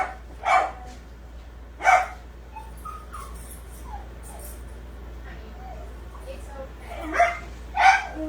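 A dog barks outside in front of a house while being walked by a family, with four sharp, separate barks at irregular intervals, moderately distant, over a low steady hum and faint background sounds.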